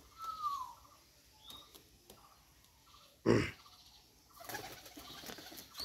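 Pigeons in a breeding loft coo softly and intermittently, with a sharp burst of wing flapping midway and light rustling around them; no voices.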